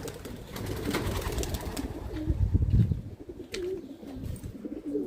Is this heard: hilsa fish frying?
no